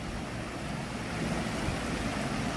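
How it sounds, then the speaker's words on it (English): Waterfall at Lincoln Park in Chicago, heard as a steady, broadband rush of splashing water that stays even and fairly loud throughout, with no voices. "Here's the waterfall."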